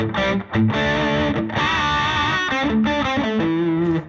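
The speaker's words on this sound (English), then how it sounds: "Now I can just do the lead boost on that lead channel as well." Overdriven electric guitar on an Orange amp's lead channel with the lead boost on, thick saturated chords and sustained notes played loud and close for a few seconds, with one short dip near the start.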